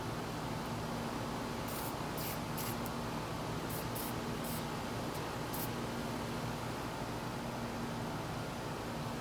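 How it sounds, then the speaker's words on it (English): Multi-purpose lubricant spray hisses steadily onto the outdoor fan motor of a Comfortmaker AC unit, a continuous close aerosol rush with a few brief sharper bursts partway through and no voices. "I'm going to take this jack of all sprays and it's going to help."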